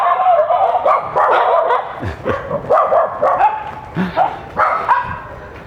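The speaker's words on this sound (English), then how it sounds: "You always get followed by street dogs." Street dogs bark in a run of loud, close, overlapping barks and yips, with irregular bursts filling the scene and some busy outdoor background behind them.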